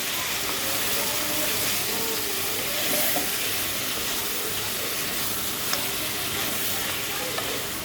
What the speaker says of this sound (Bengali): নেড়ে চেড়ে দিই, নেড়ে চেড়ে দিলে মশলাগুলো লাগবে না।